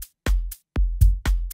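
A tight rim clap sample on its own from an electronic drum kit, struck five times in a quick uneven pattern, each hit short, dry and punchy with nothing else heard.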